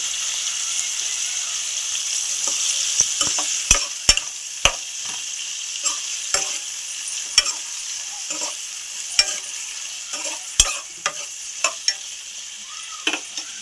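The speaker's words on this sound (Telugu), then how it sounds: "కొంచెం ఆయిల్ వేసి వాడుకోవాలి దీనిలోనే చింతపండు వేసేసుకుంటున్నాను" Tamarind sizzles steadily in hot oil for a traditional urad dal chutney, a bright, continuous frying hiss broken by scattered clicks and scrapes of stirring, close and without talk.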